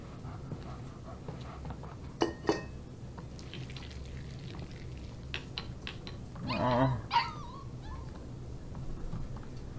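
A dog whimpers and yips in Life is Strange 2, soft whines and a couple of sharp little cries scattered over a quiet background, with a louder burst near the middle.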